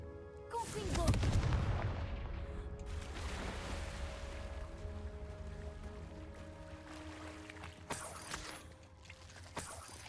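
A Confringo fire spell explodes in the Hogwarts Legacy video game, opening with a loud booming blast that decays into a long rumbling, hissing tail, followed by quieter mechanical clatter and a brief later burst, with no talking.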